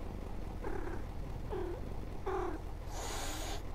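Cat in the Night Bus video game gives three short, close meows spaced about a second apart over a steady low hum, followed by a brighter hissing burst at the end.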